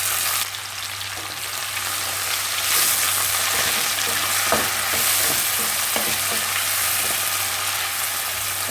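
Tomatoes, onions and curry leaves sautéing in a pan for Chettinad lentil-ball kuzhambu, a steady broadband sizzle with occasional soft scrapes and stirs, close and continuous.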